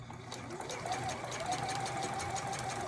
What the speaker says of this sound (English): I'm sewing down my zipper onto the fly, and I've switched to my Juki HZL F600